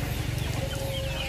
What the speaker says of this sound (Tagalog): sisilipin naman natin ang ating mga manok